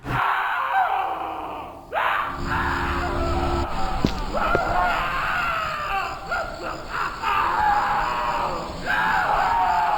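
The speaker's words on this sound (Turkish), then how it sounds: "Biri hayvan gibi bağırıyor ama oyun benden gürültüyü araştırın diyor" A man screams and bellows like an animal in the horror video game Fuel For Flesh, a loud, ragged cry with gasps that runs several seconds over dense game ambience and noise.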